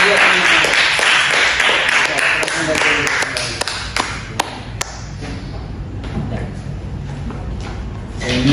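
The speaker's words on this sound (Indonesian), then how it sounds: "Oke, tepuk tangan dulu untuk Radia." A school class claps for a student after a religious lesson on ablution. The claps and taps sound scattered and uneven, and a voice carries over them before the clapping fades into background noise.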